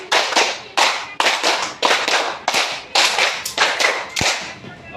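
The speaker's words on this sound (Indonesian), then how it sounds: "sekarang tepuk 5 3 kali." A class of children at an elementary school claps a counted rhythmic pattern together, sharp close hand claps in repeated short groups with brief pauses between them, crisp and loud with no talking over them.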